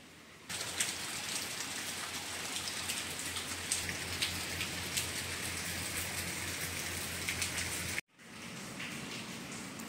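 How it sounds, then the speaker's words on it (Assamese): Rain falls steadily outside a doorway, a soft continuous patter and hiss heard from indoors at low level, broken by a brief gap before resuming. "দৰ্জা মুখলৈ গৈ বুজাব বিচাৰিছে চা বাহিৰত বৰষুণ"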